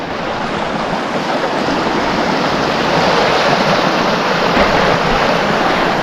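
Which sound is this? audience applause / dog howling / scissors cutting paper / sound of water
sound of water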